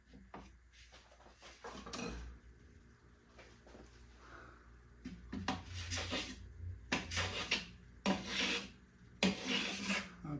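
A blade scrapes and rasps through wood in repeated strokes, quiet at first and growing louder and more rhythmic, close by with no voices.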